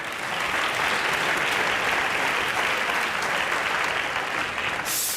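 A theatre awards gala audience in Valencia breaks into strong applause, a loud, sustained wash of many hands clapping evenly throughout.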